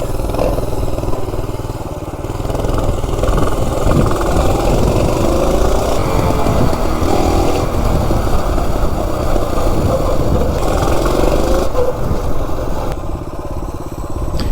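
Minibike engine idling on Coleman camping stove fuel: a loud, close, continuous rough putter with steady chugging rhythm and slight clattering, running alone for the whole stretch without talking.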